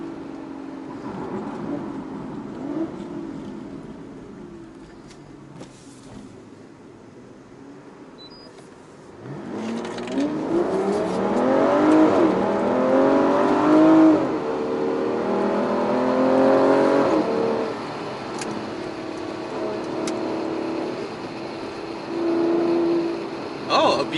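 A Porsche 911 Carrera 4S drives by, its engine building from a quiet hum into a louder, rising rev and whir as it passes, with traffic noise around it and people talking in the background.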